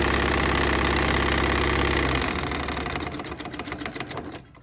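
A sewing machine runs steadily while stitching a quilt block, then slows into short back-and-forth back stitches, loud and close with no talking.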